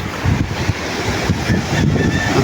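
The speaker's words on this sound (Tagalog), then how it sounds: "Medyo malalaki-laki ang alon dito sa aming harap mga katropa." Waves wash and churn steadily with gusty wind buffeting the microphone, a continuous rough roar with no voices.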